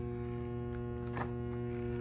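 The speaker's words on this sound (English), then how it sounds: "Doesn't want to spin, but it's humming." A washing machine that will not spin gives off a steady electrical hum, continuous and even, with a brief rattle partway through.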